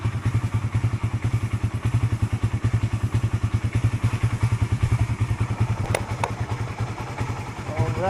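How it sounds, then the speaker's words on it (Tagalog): A motorcycle engine runs steadily nearby, with a fast regular low throbbing pulse and some rattling clatter, heading off to a rambutan harvest site. "Motor na lang kami."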